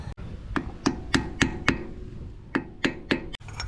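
Sharp metallic hammer strikes on a 4x4 hub nut locking tab, about ten close, loud impacts in an uneven rhythm with short pauses between blows, in a garage setting.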